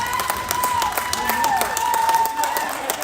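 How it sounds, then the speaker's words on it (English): Hometown Vegas crowd at a junior ice hockey game between the Rocky Mountain Warriors and Vegas Jr. Knights, a steady wash of cheering and scattered clapping filling the arena, loud throughout, with sharp whistle-like tones cutting over the roar. "You can hear the hometown crowd."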